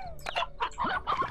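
Chickens clucking in the video game Slime Rancher, a run of short bright clucks and squawks in quick uneven bursts, close and fairly loud with no talking over them.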